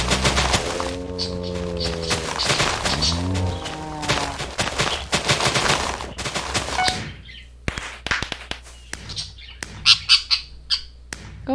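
Pet parrot giving a run of loud, harmonic squawks, followed by sharp rapid clicks and bursts of game gunfire.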